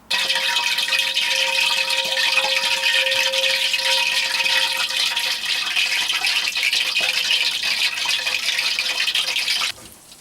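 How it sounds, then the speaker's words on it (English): Meatballs for keefli kufta fry in hot oil in a wok, giving a loud, steady sizzle that holds evenly for about ten seconds before dropping off abruptly. "Now what we're going to do is fry these off now in the wok until they're golden brown."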